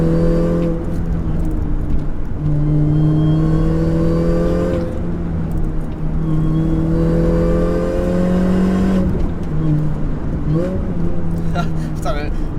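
Supercharged Mini Cooper S R53 (Mini GP) engine working hard on track, with loud sustained revving and harmonic engine tones rising and falling through gear changes, a shift near the end, over steady road and wind noise.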